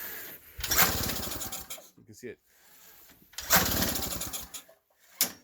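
A 1977 Honda Odyssey FL250 off-road buggy's small engine coughs and sputters in several short recoil-start attempts, each burst racing briefly then dying, with a person talking between pulls.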